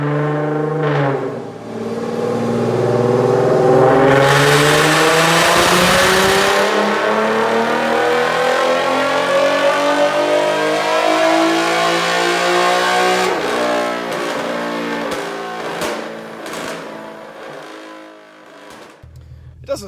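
An Infiniti G37 with a VQ37 engine, test pipes and a muffler delete revs hard, its raspy exhaust climbing and falling in long sweeps, loud and close. It then settles back toward idle with a few short blips.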